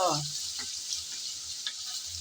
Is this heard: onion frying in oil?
yes